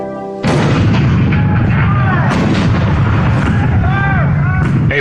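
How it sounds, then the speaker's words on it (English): Cannon fire at Fort Sumter in the Hall of Presidents attraction show: a loud sudden onset into sustained booming artillery blasts and rumbling barrage, with dramatic orchestral tones woven through. "The cannon spoke for war, bitter, violent, and devastating."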